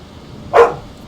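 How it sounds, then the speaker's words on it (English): A dog gives a single short, loud bark close by, with quiet room tone before and after. "Apparently, my dog doesn't like me talking about Black Friday."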